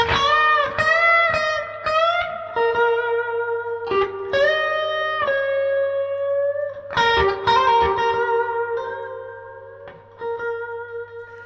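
Electric guitar through a Moore Blues Crab pedal into a Fender Princeton Reverb, with the amp volume just above 2 and a heavy dripping reverb; picked melodic phrases and sustained notes ring out alone, each trailing into wet reverb.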